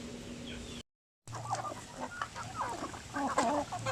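Chickens and chicks cluck and peep on a farm, a steady mix of short clucks and high chirps, fairly faint, with a brief cut of silence early on.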